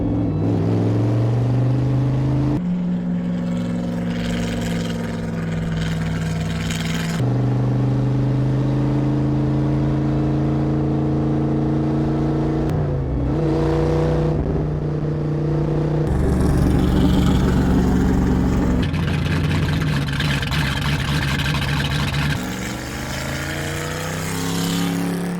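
A 1957 Ford Thunderbird set up as a road racing car laps a track, its engine droning loudly and shifting pitch through repeated gear changes and revs, close and continuous.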